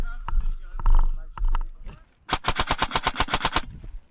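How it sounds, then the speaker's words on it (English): An airsoft minigun at an outdoor airsoft park fires a rapid burst of about a dozen evenly spaced rattling shots lasting over a second, following a few moments of nearby voices. "It's the guy with the minigun."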